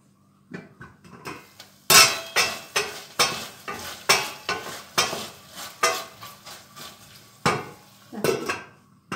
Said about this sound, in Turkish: Şunu bir karıştırayım.